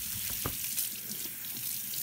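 Sliced lotus root rinsed under a running kitchen tap, a steady close splash of water hitting the pieces in a sink with a few brief knocks, no voices.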